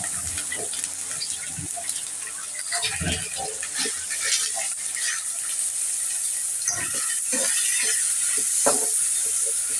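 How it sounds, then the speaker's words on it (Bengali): A little water is poured into a hot pan of browned paste and ginger garlic, giving a watery splash and hiss followed by light clinks and stirring sounds, close up with no talking. "অল্প করে পানি দিয়ে দিলাম"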